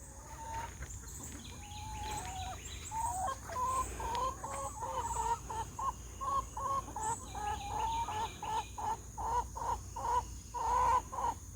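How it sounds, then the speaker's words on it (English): Several backyard hens cluck in their coop and run, a busy overlapping chorus of short rhythmic clucks and calls, fairly close and steady, with no talking. "These are her beautiful chickens."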